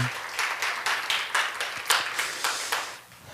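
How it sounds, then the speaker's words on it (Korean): A church congregation claps together during a revival service, a steady wash of many hands beating in loose rhythm at moderate loudness, easing off near the end. "우리 주님께 영광의 박수 올려드리겠습니다"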